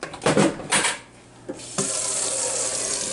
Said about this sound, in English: I'll get you a dish of water.